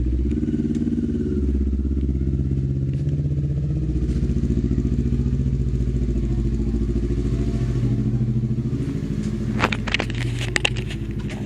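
An NK400 motorcycle's engine rumbles steadily and close for several seconds with a low, continuous drone, ending with a few clattering knocks.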